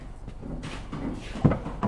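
The rear door of a 2013 Nissan Altima is opened in a workshop, giving a soft latch click and a couple of faint knocks against low background noise.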